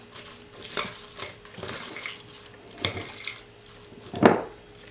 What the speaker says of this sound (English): Then I'm going to stir it until it's coated.